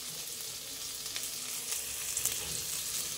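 Spices fry in hot oil in a pan while making an egg curry, giving a steady, loud, close sizzle that hisses without pause and with no voices.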